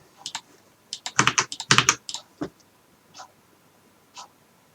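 Someone types a new password on a computer keyboard: quick bursts of crisp keystrokes cluster together, then trail off into a few isolated taps, close and clear with no talking.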